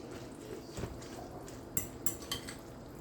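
Vegetables and green onion being stirred in a pan for a quick breakfast dish, with a few sharp utensil clinks against the pan over a low, steady background.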